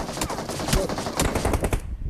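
Dense automatic gunfire from the PUBG Mobile battle royale game rattles in rapid bursts for about two seconds, loud and continuous, cutting off near the end.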